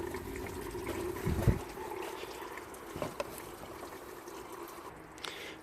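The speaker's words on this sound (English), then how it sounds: "so it's draining the water" Water trickles and drains steadily from a pipe on a Mercedes OM642 V6 diesel engine, a soft continuous dribble at close range with a few faint clunks, no talking.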